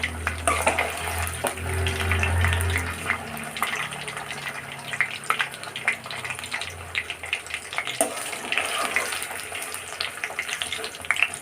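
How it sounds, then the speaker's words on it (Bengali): Paneer pieces are dropped into a bowl of water, giving soft splashes and trickling water sounds with scattered clinks over a quiet kitchen background, no voices. "এই পনিরগুলো তুলে আমি এই জলের মধ্যে ডুবিয়ে রাখবো"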